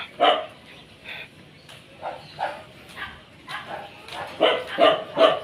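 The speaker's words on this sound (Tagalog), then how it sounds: "Maingay ang mga kahol ng mga aso." Several dogs bark repeatedly in short bursts, some yips mixed in, moderately close, with no talking over them.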